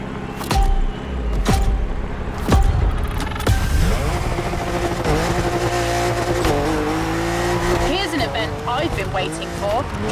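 A BMW M4 drifts in the racing game The Crew Motorfest, its engine revving and rising while tires squeal in long sweeping screeches. The sound is loud and close, with sharp bursts early on.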